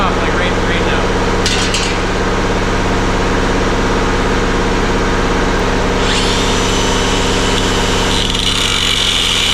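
A high-pitched power tool trims sheet metal, making a loud, continuous whine and buzz that holds steady for the whole stretch, with a brief pitch shift partway through.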